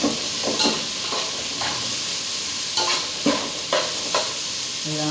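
Fresh squid sautés in a pan with a steady sizzling hiss, broken by repeated scraping stirs of a utensil against the pan at an uneven rhythm, close and fairly loud with no talking.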